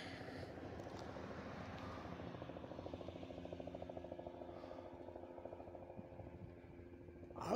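A helicopter circles over McKeesport, its rotor giving a steady low thumping drone that stays moderately distant and constant, with no voices.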